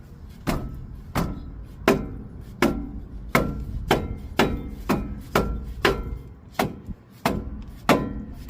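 A hammer strikes a part on a 2004 Ford Explorer during brake work, about fourteen sharp metallic blows in a steady, fairly quick rhythm, close and loud, with no talking.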